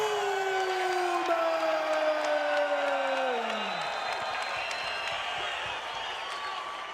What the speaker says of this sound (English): The crowd reacting in anticipation of the Hammer doing some grounding and pounding on Pete Williams.